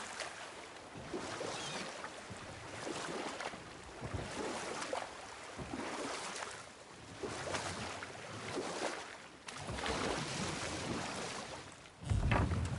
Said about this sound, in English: Keep rowing towards the statues of the oarsmen, then thread past between them.